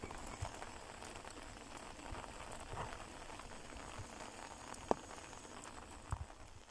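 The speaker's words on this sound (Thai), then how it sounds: "ฝนตกยุ้ยยุ้ยเนาะพี่น้อง" Light rain patters softly over rice fields, a faint, steady hiss with a few scattered drops and distant knocks standing out now and then.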